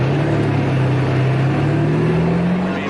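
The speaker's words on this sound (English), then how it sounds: "just the sound of these cars coming through" A line of Lamborghini sports cars, including Countach models on an anniversary tour, rumbles steadily through a tight small-town street, a loud, continuous low engine drone that climbs gently in pitch as the cars pass close by.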